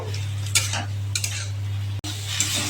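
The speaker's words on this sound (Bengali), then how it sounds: "এইভাবে নাড়াচাড়া করে ভেন্ডি ভালো করে ভেজে নেব।" Okra sizzling as it fries in a pan, stirred with a utensil in several scraping bursts over a steady crackle, with a low hum running underneath; close and fairly loud.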